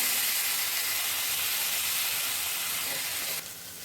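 Soaked moong dal sizzles in hot oil with onion and garlic for a methi mung dal bhaji, giving a loud, dense, continuous hiss close by that drops slightly just before the end, with no talk.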